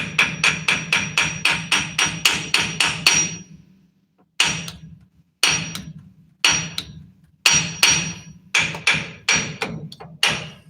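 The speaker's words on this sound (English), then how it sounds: "But I feel like hammering it is a little bit sketchy." A hammer drives a drive shaft pinion seal into place: a rapid run of sharp metallic blows, then a pause, then several more separate strikes and quick bursts. The blows are close and loud.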